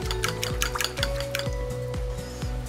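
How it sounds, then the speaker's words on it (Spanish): Oil being whisked into a tropical vinaigrette, a quick steady rhythm of a whisk clinking against the bowl, close and clear without any voices. "Yo voy a agregar 1 cucharada de aceite y batimos"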